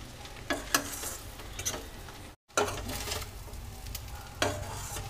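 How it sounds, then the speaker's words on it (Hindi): Sewai upma with vegetables sizzling and being stirred in a pan, a steady close frying hiss with scraping strokes of a spoon, broken by one brief silent cut. "तो चलिए इसे हम एक मिनट तक सब्जियों के साथ पका लेंगे"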